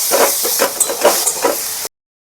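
Water poured into frying spices in a pan for cabbage kofta curry, a loud sharp steamy hiss bursting in pulses for nearly two seconds before cutting off abruptly.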